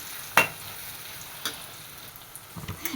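Thinly sliced onions sauté in a pan with a faint, low sizzle, broken by a few soft stirring scrapes and clicks, one sharper knock near the start.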